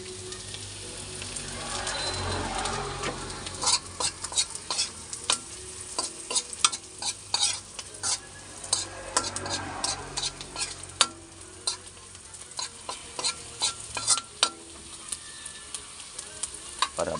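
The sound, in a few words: sautéing onion, garlic and ginger in a pan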